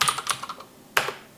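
Several quick keyboard taps in an irregular burst, then a single sharper keystroke, close and clear.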